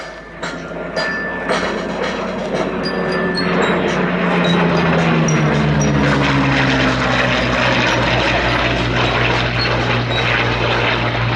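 A Hawker Hurricane WWII fighter passes overhead at an air show, its piston engine droning loud and steady with a rising then falling pitch as it sweeps by, and no voices over it.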